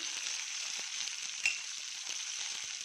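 Byadgi chillies, ginger-garlic paste, poppy seeds and cashews frying in a pan give a steady, bright sizzle with faint crackles and a brief stir around the middle, no voices.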